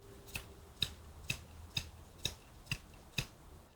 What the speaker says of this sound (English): That sound is the sound of the butt end of the stick slapping against my palm.